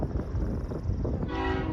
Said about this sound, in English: we got a train coming. It's going to have Union Pacific power.